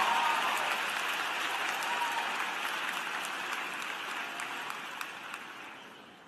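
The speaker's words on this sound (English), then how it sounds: "Please give him a round of applause." Audience applause at a graduate commencement ceremony, a broad, distant crowd clapping that runs steadily and slowly tapers off in a large hall.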